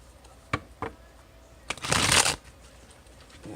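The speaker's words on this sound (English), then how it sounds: "I'm going to go ahead and shuffle." A deck of tarot cards is handled with a few soft taps, then riffle-shuffled in one close, loud, crackling burst that lasts about half a second, followed by quiet handling.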